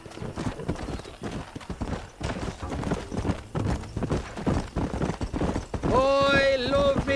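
Horse galloping in the Red Dead Redemption video game, rapid rhythmic hoofbeats under a rider's urging, ending in a loud whinny near the close.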